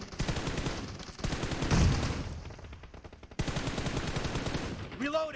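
Automatic gunfire in an 8vs8 match of PUBG Mobile comes in long, close, rapid bursts, breaks off briefly near the middle, then resumes just as loud.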